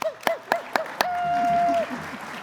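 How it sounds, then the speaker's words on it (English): A few sharp, separate hand claps ring out at an evening celebration, followed by a sustained whistle-like tone and low murmuring voices. "I think you all deserve a big round of applause"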